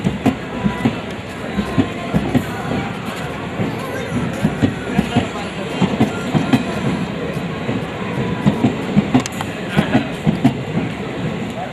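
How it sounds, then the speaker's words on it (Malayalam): Passenger train running on the Palakkad–Pollachi line in Kerala, a steady loud rumble of rolling wagons with repeated clickety-clack wheel beats throughout, close by and continuous. "പാലക്കാട് പൊള്ളാച്ചി പാതയിൽ ട്രെയിൻ ഓടുമ്പോൾ"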